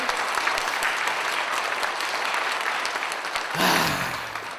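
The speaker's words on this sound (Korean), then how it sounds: "다시 한번 우리 영광의 박수 하나님께 돌리겠습니다" Church congregation applauding during an Easter Sunday worship service, a dense steady wash of clapping that swells briefly louder near the end as a low tone enters.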